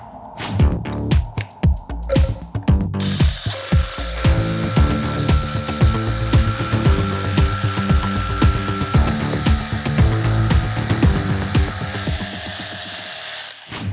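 A power drill grinds steadily into hard material, boring an M10 anchor hole 120 mm deep, with rattling, hammering pulses, starting and stopping briefly at first, then running continuously up close.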